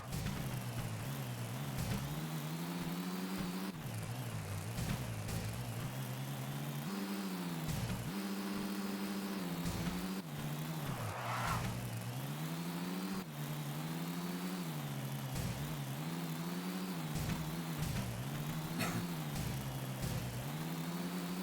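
Car engine in Tony Hawk's Underground, steady mid-pitched drone with repeated rises and dips as the car is driven and turned around in reverse, continuous and fairly close throughout.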